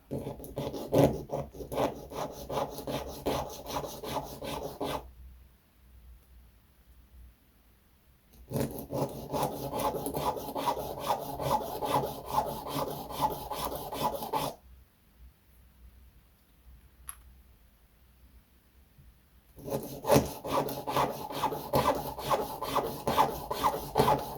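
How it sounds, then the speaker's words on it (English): Filing and sanding wood on a Bluenose ship model, a close, rhythmic rasping of rapid back-and-forth strokes in three long spells separated by quiet pauses. "So I'll need these filed off. I'll sand it off."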